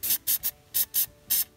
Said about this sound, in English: we're gonna spray all the bare metal here with some spray paint just to try to keep it from corroding